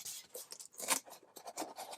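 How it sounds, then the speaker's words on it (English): Scissors snip through thick felt while cutting out a circle for a heart wreath craft, giving close, soft, uneven crunching cuts in quick bursts with short pauses between them. "So let's start cutting our circle."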